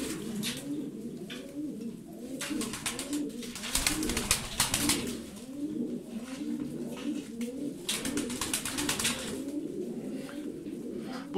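Tumbler pigeons cooing continuously in a loft, soft rolling coos overlapping from several birds nearby, with occasional brief rustles and flutters.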